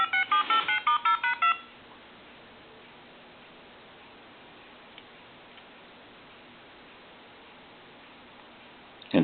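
A Lucent Technologies 272 two-line telephone redials, sending a quick run of about eight evenly spaced touch-tone beeps in the first second and a half, followed by near silence with faint line hiss.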